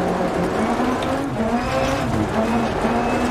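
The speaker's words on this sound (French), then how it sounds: "Là aussi, je tire le frein à main ici." Rally car engine in the video game Dirt Rally 2.0 whines steadily with a sliding, skidding tone as the handbrake is pulled and the car drifts, loud and close without any talking.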